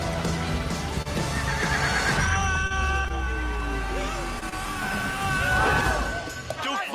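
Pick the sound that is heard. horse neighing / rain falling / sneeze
horse neighing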